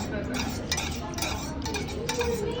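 Melted candle wax being stirred in a container, making a continuous scraping, swishing sound with faint clinks, close and fairly even, with people talking softly in the background.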